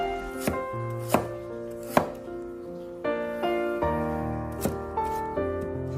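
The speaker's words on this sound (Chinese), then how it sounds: "准备1块去皮的生姜，把生姜切成薄片" A knife slices peeled fresh ginger into thin pieces on a board, producing sharp, evenly spaced chops over tonal ringing background sounds, close and clear, with no talk.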